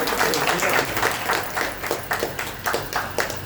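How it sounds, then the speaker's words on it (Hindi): An audience at a Rashtriya Teli Sahu community meeting claps steadily, a dense, continuous round of applause that carries on throughout with slight surges in volume. "चलिए ताली बजाइए, इधर देखिए,"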